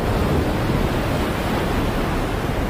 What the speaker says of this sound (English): the howling wind and waves seemed like they would shatter the boat and sink it at any moment